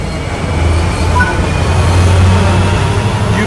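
CSX 8221 train in the video game Train Sim World 2, a loud, steady rumble of rolling wagons with a low drone and faint high squeals running the whole time.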